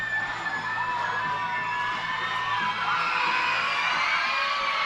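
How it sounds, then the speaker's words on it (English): Baseball crowd at a minor league game between Binghamton and Reading cheering loudly and continuously, with whoops and shouts rising from a packed stadium. "Crowd making a lot of noise here as Sharp leads with a 2-0 count."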